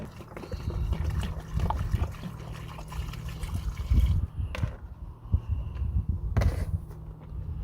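Water is poured in to rinse clothes being hand-washed in a van, producing close trickling and sloshing with uneven bursts and pauses, and no talking.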